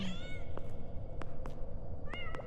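Kittens meow repeatedly in the horror game Have You Seen at an eldritch adoption center: high, clear meows open and close the moment, with a few short chirps between.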